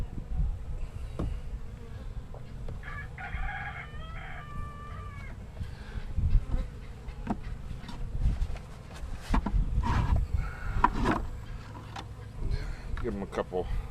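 Honeybees humming around an open nucleus colony hive, a faint steady buzz under intermittent close clicks and handling knocks of frames, with brief distant clucking from chickens.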